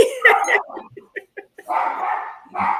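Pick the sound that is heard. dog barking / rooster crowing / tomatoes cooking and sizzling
dog barking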